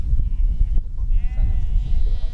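Sheep and lambs bleat on a farm, several overlapping calls close by over a steady low rumble of background noise, with some indistinct voices nearby.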